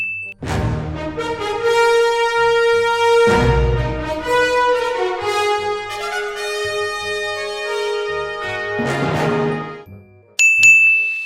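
A notification bell sound effect plays as a bright, ringing chime. Several clear, bell-like tones sound one after another and sustain in a short melodic run, then a final high ding rings out alone.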